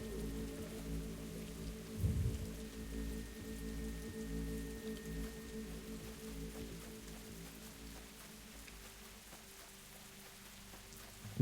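Steady rain patters on a surface in the video game The Walking Dead Season 2, soft and continuous, with a brief louder splash early on and no voices.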